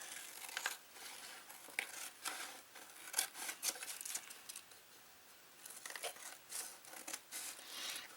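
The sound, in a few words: cutting excess material from a journal cover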